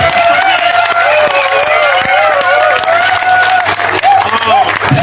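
A political rally crowd applauding and cheering for a lawyer being honoured, loud and sustained, with clapping and a few whoops blending into a continuous roar while voices carry over it.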